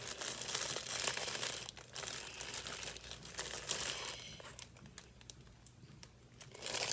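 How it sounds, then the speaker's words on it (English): Mini skeins of yarn rustle inside a crinkly plastic bag, a steady close-up crackling and crumpling that carries on throughout with no talking. "You can hear all the crinkling because it's all still in plastic."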